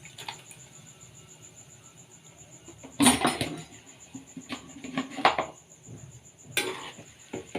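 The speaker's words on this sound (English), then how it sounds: "Let us mix it well." Boiled gram dal and prawns being mixed in a bowl, giving a few scattered clinks and scraping knocks against the bowl over a quiet background hum.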